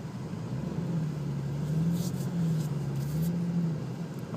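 A 2008 Infiniti G35 rear-wheel-drive sedan with VDC switched on climbs a snowy incline, its engine holding a low steady drone that wavers slightly in pitch, fairly faint and with no talk.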